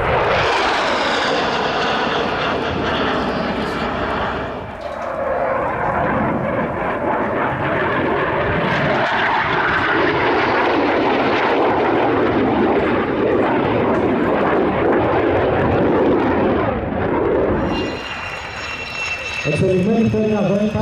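A powerful twin-engine jet roars past at an air show, a loud sustained rumble swelling and fading with a pass, then a brief lull before another jet surges in, with an announcer's voice over the engine noise.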